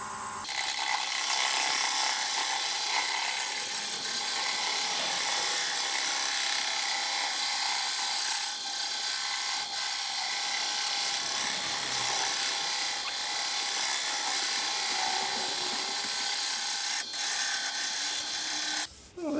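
Round-nose tool cutting a mesquite bowl on a wood lathe spinning at 500 RPM, giving a steady, loud, close scraping rasp that runs almost unbroken for the whole stretch with no talk.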